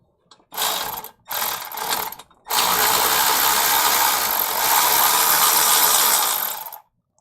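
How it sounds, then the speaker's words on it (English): An electric ratchet works a manifold bolt on a Jeep XJ engine, starting with two short buzzing bursts and then running in one loud, steady whir for several seconds before it stops. "know if I can get my electric ratchet on that"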